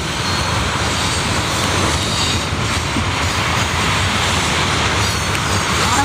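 An eastbound Norfolk Southern manifest freight train with an ex-Conrail SD60M passing close by, a loud, steady, continuous roar and rumble of railcars rolling on track throughout, with no voices.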